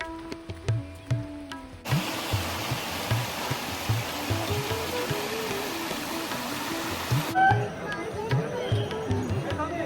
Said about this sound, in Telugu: ఒక పెద్ద వాటర్ స్ట్రీమ్ వచ్చింది చూడొచ్చు